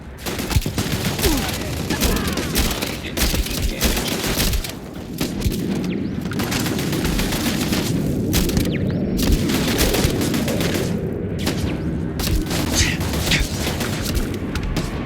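Gunfire and booming blasts fill a sustained firefight in Starfield, a dense, loud, continuous barrage of shots and explosions, with shouting voices breaking in over the combat.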